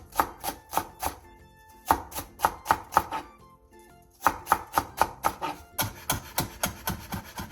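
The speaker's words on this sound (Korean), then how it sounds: "대파 2분의 1개를 길게 반으로 가른 뒤 쫑쫑 썰어주세요." A knife chops half a green onion finely on a cutting board in fast, even rhythmic taps. The taps come in bursts with a brief pause in the middle, crisp and close.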